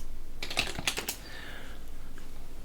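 Someone types a command on a computer keyboard: a quick burst of close key clicks at a moderate pace, then quiet.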